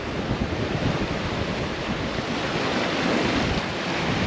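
Strong wind roars steadily over big following waves at sea on a sailboat in the English Channel during 30-knot squalls, a loud, continuous broadband rush with no talking.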